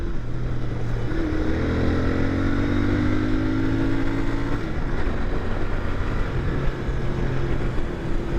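A 2021 Royal Enfield Continental GT 650 twin engine drones steadily while riding, with a continuous rumble and smooth rising and falling engine tones, close and fairly loud, with no talking.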